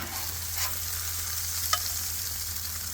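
Hibachi-style food cooking on a Blackstone griddle, a soft continuous sizzle with a couple of faint spatula scrapes, no voices.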